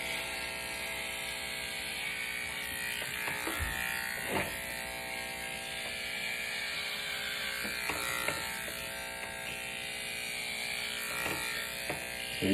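Electric clippers shaving a head, giving a steady, close, continuous buzzing drone with small shifts as the blades move over the scalp.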